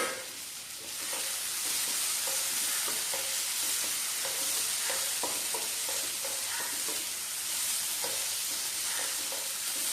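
Fried shark pieces are tossed into sukka masala in a pan, giving a bright steady sizzle broken by repeated spatula scrapes and taps at an irregular pace, close and without voices.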